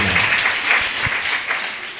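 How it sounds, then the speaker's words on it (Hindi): A church congregation claps loudly together, a dense burst of applause filling the short moment with a few stronger hand claps standing out. "जोर से ताली"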